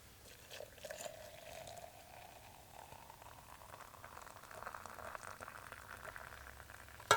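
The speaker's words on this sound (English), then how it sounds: "we'll just wait for this to boil off for a second, and then we'll enjoy this coffee" Coffee boiling in a pot on a twig stove fire outdoors, a faint, continuous bubbling and simmering with soft crackles and a rising hiss, close and without talk.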